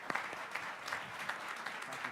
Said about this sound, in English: one more round of applause for this great set of commissioners